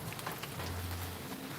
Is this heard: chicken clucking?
no